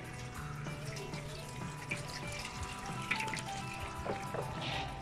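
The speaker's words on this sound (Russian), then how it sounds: "Сделай ливень, Игорь." Water sprayed over a sheet-metal roofing panel fitted into a slot to simulate a heavy downpour, giving a steady close hiss of splashing and trickling water with no talk.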